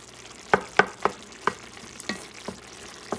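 Spanish fideos pasta cooks in a pan, with a soft sizzle beneath a handful of sharp scraping and stirring clicks spaced roughly every half second, close by, with no one speaking.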